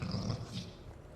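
Dog growling in a Mass Effect game scene, a short, fairly faint low rumbling snarl lasting about a second.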